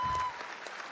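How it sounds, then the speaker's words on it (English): An audience at a fight event claps in a brief burst that starts loud and quickly thins to scattered applause within a second. "let's all give a round of applause for Parker."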